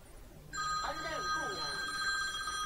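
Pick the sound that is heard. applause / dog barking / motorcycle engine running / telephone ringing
telephone ringing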